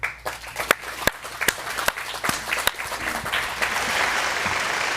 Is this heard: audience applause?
yes